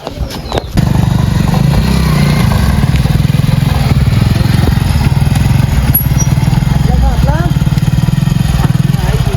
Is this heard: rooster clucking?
no